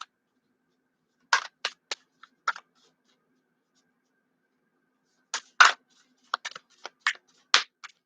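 Tarot cards shuffled by hand in short, crisp bursts of riffling and flicking, two clusters separated by a quiet pause, close and fairly faint with no talking.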